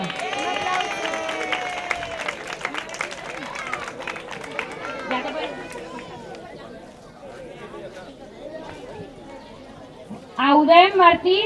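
Applause and crowd chatter at an end-of-year school celebration: scattered clapping and busy murmur fill the first half, fading to quieter hubbub before a short burst of sound near the end.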